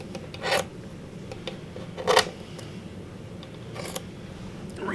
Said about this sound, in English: First I'm going to cut the threads off pretty close to evenly.